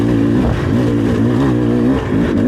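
A 2024 Beta 300RR Race Edition two-stroke dirt bike engine revs loud and close, its pitch wavering up and down through a continuous buzzing drone before climbing again at the end.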